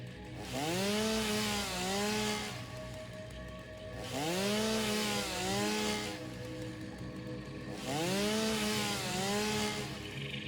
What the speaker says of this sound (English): We should probably chainsaw this down too